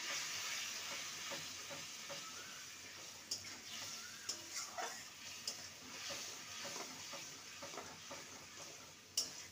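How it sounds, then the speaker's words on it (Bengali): Spice paste with turmeric and salt stir-fried in a pan over medium-high heat, a soft continuous sizzle broken by occasional light scrapes and taps of the spatula, quiet and close. "মিডিয়াম টু হাইতে রেখে মশলাটাকে ভালো করে কষিয়ে নেব"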